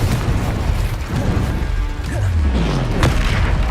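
Confringo explosion spell in Hogwarts Legacy: a dense run of booming blasts and crackling bursts amid a busy combat mix, with a loud detonation near the end.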